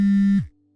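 A phone's ringback tone plays while a call waits to be answered: one steady, fairly loud electronic tone that holds for under half a second, then cuts off into silence.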